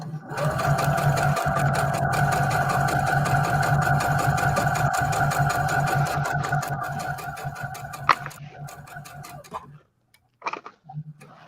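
A sewing machine stitches fabric in a steady rapid whirring clatter for about nine seconds, then stops, followed by a few short handling clicks nearby.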